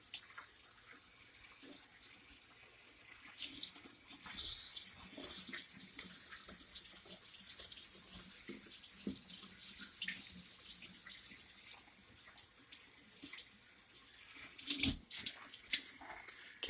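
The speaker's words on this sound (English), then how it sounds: "This is going to take forever to rinse out." Running tap water rinses dye out of a tie-dyed shirt in a sink, a faint, uneven splashing and gurgling with bursts of louder flow and occasional sharp knocks, without speech.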